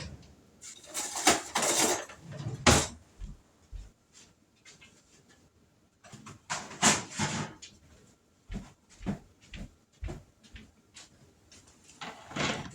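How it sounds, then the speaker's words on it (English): A kitchen knife cuts through a tomato on a board during home cooking, with a string of close, irregular sharp knocks and scraping strokes, a short pause, then more quick chops. "I'm going to grab me a knife and slice up some of that tomato"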